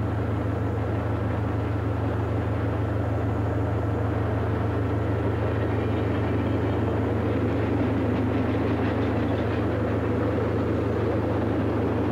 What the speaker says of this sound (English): Back to our present-day gravel train, continuing northbound